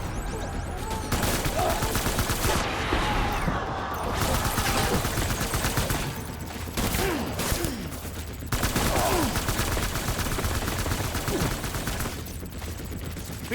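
Dense gunfire crackles nonstop through a firefight in the video game Death Stranding Director's Cut on PC, loud and continuous with brief dips, layered with game noise.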